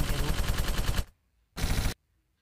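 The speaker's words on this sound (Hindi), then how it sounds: "तो मेरी फायरिंग में मशीन गन के साथ खेल रहा हूँ" Machine gun firing in the zombie driving game Zombies Road Kill: a loud, rapid rattling burst for about a second, a short silence, then a second half-second burst, with no talking.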